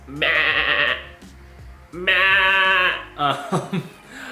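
A man imitates a goat's bleat with his voice, two long wavering bleats and a shorter one, close and loud, without other talk.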